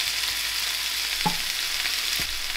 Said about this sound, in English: Make sure you let the meat sear nicely before you start turning it over.